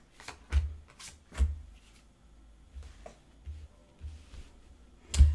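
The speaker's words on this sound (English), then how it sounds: "we're going to cut the cards" Tarot cards being cut and handled, giving several soft, close card slaps and riffles in an uneven rhythm at low volume, with no talking.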